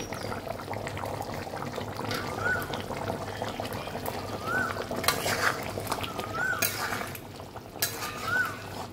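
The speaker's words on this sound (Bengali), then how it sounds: "ডিম আলু কষিয়ে আমি জল ঢেলে দিলাম।" Water poured into a pan of frying egg and potato curry, giving a steady close sizzle and bubbling hiss that swells with the pour, with faint chirps in the background.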